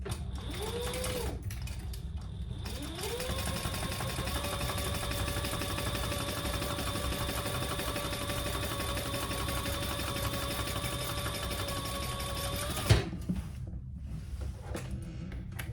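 A sewing machine stitches fabric for a wallet, running a steady mechanical hum with a faint whine for a long stretch before a sharp click as it stops.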